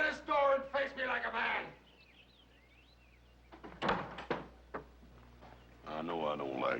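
Heavy knocks land on a door in a Western drama scene, a few loud thuds in the middle between stretches of someone shouting.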